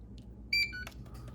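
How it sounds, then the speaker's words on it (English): A short, high electronic beep sounds once from an Arrma Infraction RC car, followed by a couple of quick chirps, close by and against a low background hum. "This thing will start beeping at me."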